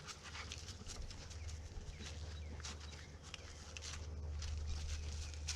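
Dogs pant and stir while kids play in the background outdoors near an old Chevy with a weak battery, all faint and distant beneath steady low hum and wind-like noise.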